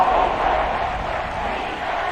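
A stadium crowd in the Madden 22 football game roars during a Monday Night Football matchup between the Rams and 49ers, a loud dense sustained wash of crowd noise that holds steady throughout.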